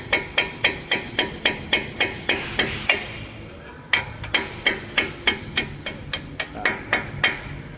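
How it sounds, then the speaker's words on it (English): Steady hammer blows on a punch drive a rusted bolt out of a 2013 Mazda 5 lower control arm, about twenty sharp metallic strikes in an even rhythm, close and loud, with a brief pause midway. "just get yourself a punch and then punch it out the rest of the way"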